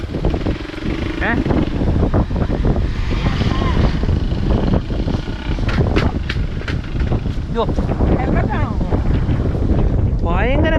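Strong wind roars and buffets the microphone throughout on a motorbike trip near Dhanushkodi, a constant loud rush with people talking over it.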